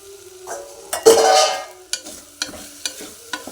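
Masala powder going into egg rice in a pan at home, with a brief burst of sizzling followed by several spaced clinks and scrapes of a spoon stirring, close and fairly clear.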